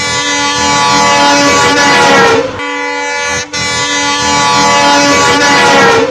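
A speeding train roars past at close range, loud and continuous, with a brief dip in the middle and a horn-like tone riding over the rumble.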